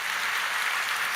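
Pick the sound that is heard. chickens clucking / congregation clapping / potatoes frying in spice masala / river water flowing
congregation clapping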